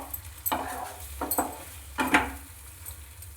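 Boiled masoor dal mixture being worked in a pan, with a few distinct scraping and clinking strokes of a utensil against the pan over a low steady background hum.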